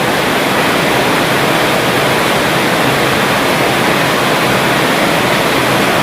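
Rainwater rushes steadily and loudly along a road without a break, a dense broadband wash of runoff streaming along the surface.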